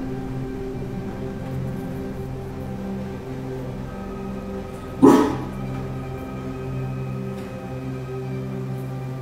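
A single sharp dog bark near the middle of a quiet stretch, with a faint hum underneath and no voices.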